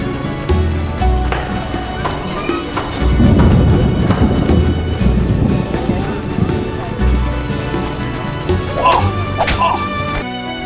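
Rain and rolling thunder in The Witcher game, a loud steady wash of rainfall with a deep rumbling boom building and lingering, plus scattered thuds and a few brief tonal game sounds near the end.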